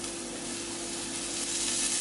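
Food pieces searing four at a time in a very hot oiled pan to build colour: a steady, bright sizzle and hiss, close and continuous, with no talking.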